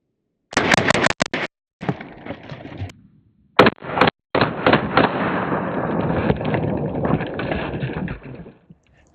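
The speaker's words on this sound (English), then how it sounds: "we're gonna see how a little machine gun 45 ACP does against this ammo" A suppressed .45 ACP submachine gun fires at a Level III armor plate, in loud close bursts of rapid shots split by short pauses, then one long sustained burst.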